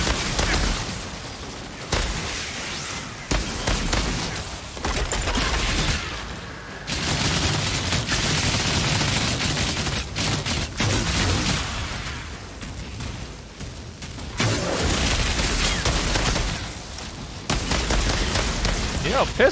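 Pistol gunfire in the Outriders shooter game, repeated bursts of shots and impacts in uneven clusters with brief lulls between, loud and up close, while someone talks at times.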